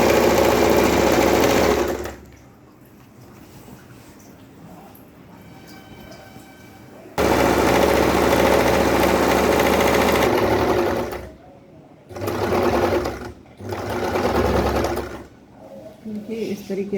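A sewing machine stitches a petticoat in loud, close runs of whirring, one long burst, a pause, another long burst, then shorter stop-start spurts, with a person talking in the gaps.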